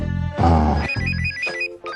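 A mobile phone rings indoors with a loud, steady electronic ringtone made of repeated tonal bursts that run through the whole two seconds, with no talking over it.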